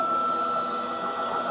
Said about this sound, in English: you notice the spindle is still running while you're in feed hold